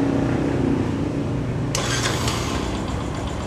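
A Yamaha YTX 125 motorcycle with a Bosch UR2CC spark plug cranks and fires into a loud, close running engine, a sharp burst of noise marking the start before it settles into a steady idle.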